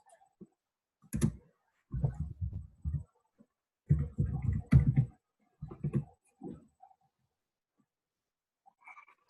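Keys clatter on a computer keyboard in short, uneven bursts of typing with brief pauses between runs, fairly close and alone with no talking.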